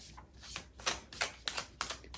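Tarot cards are shuffled in a quiet room, a series of about six short riffling bursts at an even rhythm, close and fairly soft.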